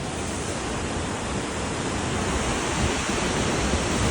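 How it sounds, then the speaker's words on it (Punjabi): A steady, dense rush of flowing water from two rivers meeting fills the whole stretch without pause, loud and broad like a river torrent nearby, near Govindghat on the Hemkunt Sahib route. "ਦੋ ਨਦੀਆਂ ਦਾ ਸੰਗਮ ਮਿਲਦਾ"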